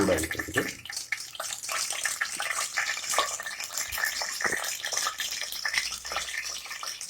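Mustard seeds, urad dal and fennel sizzle steadily in hot oil, a dense continuous crackle and hiss close by for several seconds with no talk.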